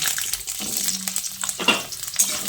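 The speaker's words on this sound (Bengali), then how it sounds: "আলুটা দিয়ে তেলের সঙ্গে নেড়েচেড়ে মিশিয়ে নিয়ে আলুটাকে কিছুক্ষণ ভেজে নেব" Cut potatoes frying in hot oil with tempering spices while being stirred, giving a steady sizzle close by with a few scraping stirs, and no voices.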